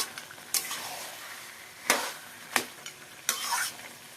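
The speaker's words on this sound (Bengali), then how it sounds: "মাঝখানে মাঝখানে একটু আমি নেড়ে নিয়েছি দু একবার, নাহলে তলায় লেগে যাবে।" A pan of katla fish head curry with bottle gourd and potato is stirred over a high gas flame: several sharp scraping strokes of the spoon rise over a steady, bubbling sizzle.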